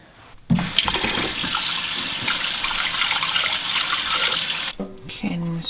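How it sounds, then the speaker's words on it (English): Water rushes loudly and steadily from a kitchen tap as soaked corn grits are strained and rinsed, a continuous splashing hiss that stops abruptly near the end. "I'm gonna go ahead and strain this liquid out, and then I'm gonna rinse it another round with water"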